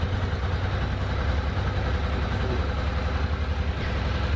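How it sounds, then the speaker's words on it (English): A Ducati Monster 800 motorcycle engine idles unevenly nearby, running on one cylinder, chugging with a rough, lopsided low thump throughout. "But it sounds like it's chugging on one cylinder."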